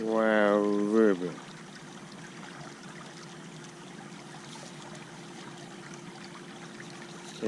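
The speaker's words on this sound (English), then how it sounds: "Wow, river." Water murmurs and trickles in a city creek, a steady, fairly close rush. A voice speaks briefly at the start, and a faint steady tone hums underneath the flow.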